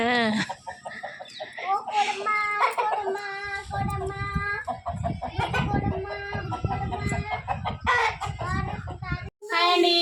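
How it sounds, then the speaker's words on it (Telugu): A rooster crows loudly nearby while hens cluck and squawk around it, with brief bits of voices in the background. "అక్కడైతే కోడి ఉంది కోడి కోడి ఉంది లోపల"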